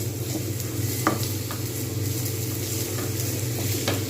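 Onions fry in a pan for chana masala, giving a constant close-up sizzle with a low hum beneath. A few sharp spatula taps break through as they are stirred, and nobody speaks.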